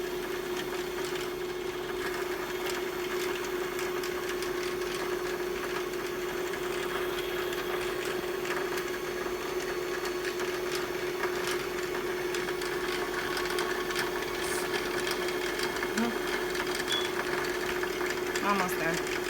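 A Brother sewing machine winds thread onto a bobbin with a steady, continuous high motor whir that runs unbroken at close range, with faint clicks and no pauses.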